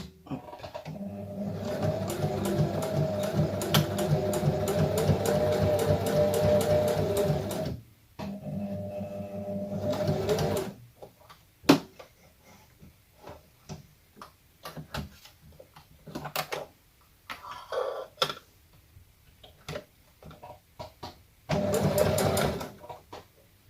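A sewing machine stitches in a long continuous whirring run, then a shorter burst, followed by scattered clicks and handling taps, and a final brief stitching burst near the end, heard close and without speech.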